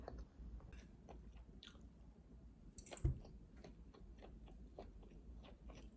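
Someone eats a home-cooked meal at home, with soft close chewing and small biting and squishy mouth sounds in an irregular rhythm, plus a few faint clicks of utensils, quiet and without talk.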